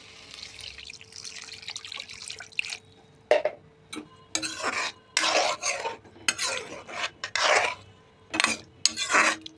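Fried potatoes and water going into a puti fish curry in a pan, with scattered clinks of a spoon against the pan, soft stirring and splashes in short bursts, fairly quiet and close.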